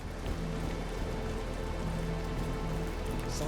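Steady rain falls in a video game, a dense constant hiss of drops on surfaces that fills the whole stretch at an even level, with no voices.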